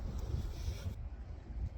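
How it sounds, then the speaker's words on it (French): Wind gusts by the Seine river on a grey, drizzly day, a steady low rush and buffeting that fills the whole stretch with no other distinct sounds. "Il y a du vent, il y a une espèce de bruinasse."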